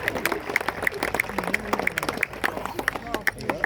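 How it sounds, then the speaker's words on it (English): Outdoor crowd on an oval at Gallipoli Barracks claps for Echo, a military dog, after a working-dog demonstration; scattered, moderately close clapping runs steadily under someone talking. "Everyone, just a round of applause for Echo."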